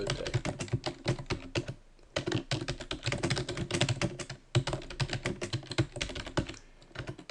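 Close-up, rapid keystrokes on a computer keyboard come in bursts, with two short pauses between runs of clicking.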